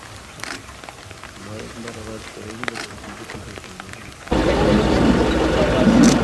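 Rain falling in Ranthambore National Park, a soft patter under a quiet stretch that gives way to a sudden, much louder steady wash of rain for the last two seconds.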